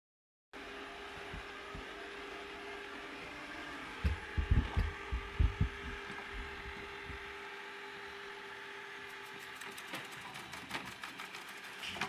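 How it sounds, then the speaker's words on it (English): An Amarey A980 robot vacuum hums steadily as it drives back to its docking station, with a cluster of soft bumps and clicks midway, then a faint whir as it moves along. "it's going back to the docking station"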